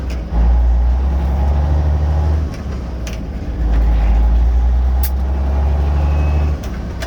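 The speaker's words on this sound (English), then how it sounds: "I'm already starting to put my foot on the gas." Truck engine revving under load as the driver works the gas and shifts gears, a loud steady low rumble that drops briefly between gears and then swells again.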